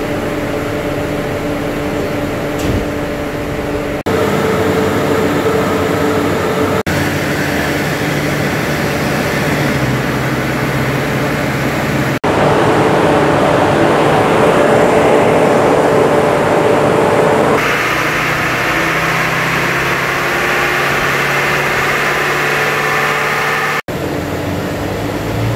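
A remapped Ford Ranger WildTrak 3.2 engine runs on a dyno. It produces a loud, sustained mechanical drone that shifts in pitch and intensity through several distinct stages, broken by abrupt cuts, with no talking.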